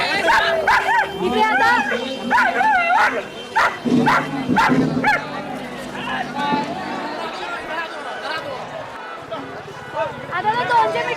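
Dogs at a dog race in Miraj bark and yip repeatedly in sharp bursts, loud and nearby, amid a chattering crowd, with people speaking throughout.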